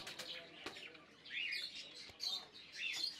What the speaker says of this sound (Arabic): نحن إذن في سوق الطيور بالمركزي بتعز، وما علينا سوى الاستمتاع بسيمفونية يؤلفها كوكتيل الأنغام وشدوى هذه المخلوقات الزاهية الشجية.